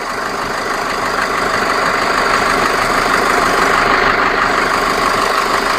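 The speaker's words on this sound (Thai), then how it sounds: "อันนี้ลองสตาร์ทให้ดูเงียบริบเลยนะครับ" A 2017 Chevrolet Colorado 2.5 pickup truck engine idles steadily with a rough, constant rumble and no pauses or voices.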